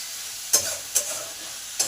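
A spoon scrapes through cauliflower-stalk vegetables with salt and turmeric in a frying pan, three sharp separate strokes over a faint sizzle.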